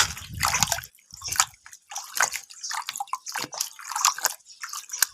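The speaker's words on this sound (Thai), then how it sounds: "นำลงล้างน้ำเลยครับ" An uprooted aloe vera plant is rinsed in water outdoors, giving irregular drips, splashes and wet squishing as it is handled, with no talking.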